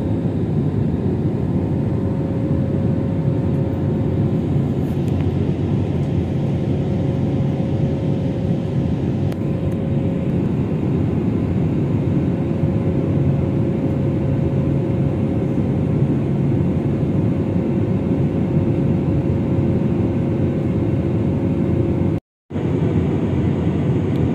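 Steady loud jet-engine rumble and whine of an airplane at an airport terminal on arrival in the Philippines, a continuous drone with a sustained tone, briefly cut near the end.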